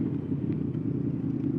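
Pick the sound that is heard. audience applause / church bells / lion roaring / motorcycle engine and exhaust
motorcycle engine and exhaust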